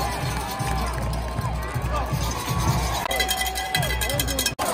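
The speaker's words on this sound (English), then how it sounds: "We got us some good fans over here cheering on their boys with a chant of Cedar Park" Football fans in the stands cheer and chant for Cedar Park, a loud, continuous crowd roar with rhythmic pulses of chanting and babble throughout.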